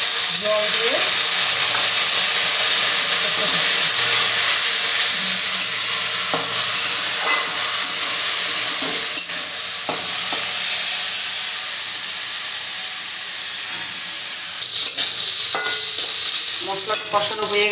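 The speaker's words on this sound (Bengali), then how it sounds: "এবার ভালো করে কষাতে হবে।" Spices for masoor dal chochchori are sautéed in a pan, a loud continuous sizzling hiss that dips briefly mid-way and surges again, with occasional spoon scrapes and no talking over it.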